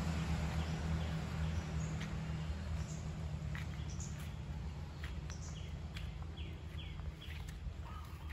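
Birds chirping in a quiet forest, scattered short high calls and whistles repeating at a distance over a soft, steady background hum, with no one talking.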